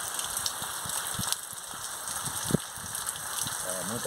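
Heavy night rain with wind in the sertão of Bahia near Irecê falls as a steady, soft hiss of drops on surfaces, fairly faint and continuous, with a few louder splats scattered through.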